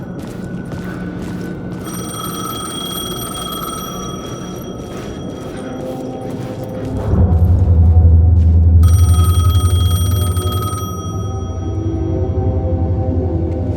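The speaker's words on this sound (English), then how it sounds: "phone was ringing." A telephone rings in repeated bursts of bright bell tones inside the video game Alan Wake 2, loud and close, over a low droning ambience that swells midway.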